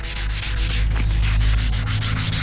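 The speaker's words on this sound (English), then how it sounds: "I've tried doing is sanding it down with a bit of wet and dry" Steady, close rubbing of wet and dry sandpaper over cracked paint on a Porsche, a continuous rhythmic scratchy swish with no talking.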